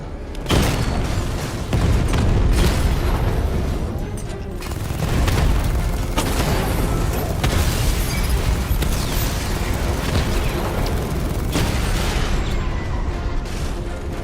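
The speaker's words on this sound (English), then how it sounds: "Your 60mm cannon will penetrate these heavily armored units" A 60mm tank cannon fires in a Batman video game, with heavy booms and explosions landing in rapid succession. The blasts are loud and sustained, layered with rumbling debris and gunfire-like bursts.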